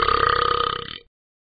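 A long, loud cartoon burp from the talking cat Ben in a mobile video game, one continuous throaty rasp held for about a second before cutting off abruptly into silence.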